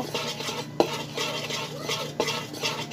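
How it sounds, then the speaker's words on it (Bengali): Cake batter being mixed and scraped in a bowl before it goes into a baking pan, heard as soft, continuous stirring swishes with two sharper clinks of utensil on the container, quiet and close. "তারপর আমি এটা করে আমি যেটাতে কেক বানাবো এটাতে ঢেলে নিব।"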